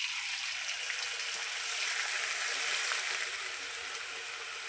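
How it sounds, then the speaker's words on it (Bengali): Potato slices sizzle and crackle in hot oil in a wok, a dense, even frying hiss with scattered pops, close and steady throughout. "তেলটা আমার গরম হয়ে গেছে বন্ধুরা, এবার আমি আলুটা দিয়ে দেবো"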